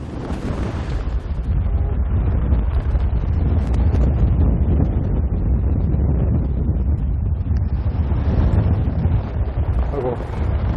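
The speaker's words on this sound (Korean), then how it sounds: "등대 밖으로 나가자마자 휘몰아치는 바람." Strong wind howls outside a lighthouse on the coast, a loud, gusting roar buffeting the microphone for the whole stretch with heavy low rumble and no pauses.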